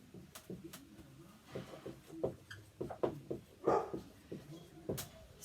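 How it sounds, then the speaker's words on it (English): Indoor dogs let out short, scattered barks and whimpers at moderate distance, irregular and fairly soft, with some faint clatter between them. "don't mind my dogs."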